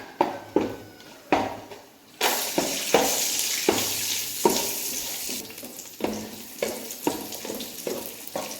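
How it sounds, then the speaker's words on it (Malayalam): Steady sizzling of nuts and raisins frying in hot ghee, with repeated stirring scrapes against the pan. "നെയ്യ് ഒഴിച്ച് കൊടുത്തിട്ടുണ്ട് ഇനി നമുക്ക് അണ്ടിപ്പരിപ്പ് മുന്തിരിങ്ങയും വറുത്തെടുക്കാം"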